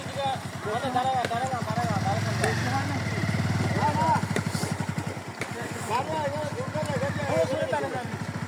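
A motorcycle engine putters and revs up close during riding practice on a hilly road, a continuous throbbing beat that rises and falls. Voices talk over it.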